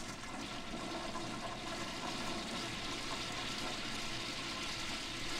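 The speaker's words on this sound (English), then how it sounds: "Water flushing." A toilet flushing in a city home on a busy morning, a continuous close rush of gushing water that holds steady and loud throughout.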